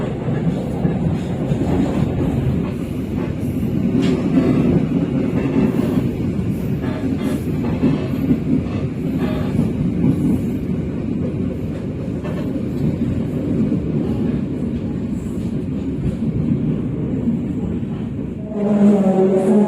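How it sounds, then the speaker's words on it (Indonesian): The Brantas passenger train pulls into Madiun station in Indonesia with a steady, loud rumble and rolling wheel noise, heard from on board, and a faint squeal rises near the end. "Sesaat lagi kereta api berantas akan tiba dan berhenti di stasiun"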